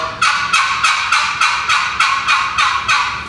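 Turkey yelps from a turkey call repeated in a steady series of about nine evenly spaced, loud, raspy notes, with no voices.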